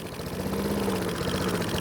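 Small gas engine running steadily while fogging fluid is fed into its carburetor, a close, continuous chugging drone with a faintly rough, uneven tone.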